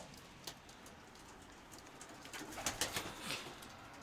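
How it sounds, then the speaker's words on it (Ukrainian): Soft pigeon cooing rises near the end over a steady hiss of background noise, faint and somewhat distant, with no voices. "Це рябохвостий голуб."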